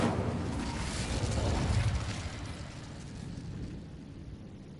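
A fire spell cast in the wizarding video game Hogwarts Legacy: a broad whooshing, roaring burst swells over about two seconds and then fades into a lingering rumble, with no talk.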